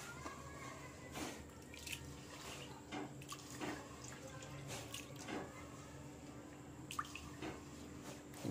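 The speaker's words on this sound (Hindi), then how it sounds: "इसे अच्छी तरह चावल को धो लेते हैं इसी में, फिर पानी को बाहर निकाल देंगे।" Rice being rinsed in water in a pot before cooking in a rice cooker, faint scattered drips, splashes and soft water sloshing over a quiet background hum.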